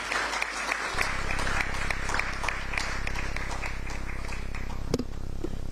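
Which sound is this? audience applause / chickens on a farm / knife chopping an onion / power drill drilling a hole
audience applause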